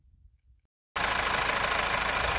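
A Mazda 2.2 Skyactiv D diesel engine starts abruptly after near silence and settles into a steady, even running rumble with a fine regular pulsing, close and loud, with no other noises.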